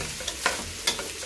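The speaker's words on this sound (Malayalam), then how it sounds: "ഈ അരി ഒന്ന് വറഞ്ഞ് വെക്കട്ടെ. ഞാൻ 1/2 ടേബിൾ സ്പൂൺ പശുനെയ്യാണ് ഒഴിച്ച് വെച്ചത്." Rice frying in half a tablespoon of cow ghee for fish biryani gives a continuous close sizzle broken by a few short scraping stirs of a spoon.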